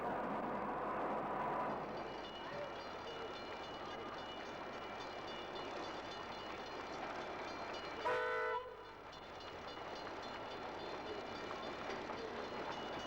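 A suburban electric train rumbles along steadily nearby, and a short horn blast sounds partway through before the rolling noise continues.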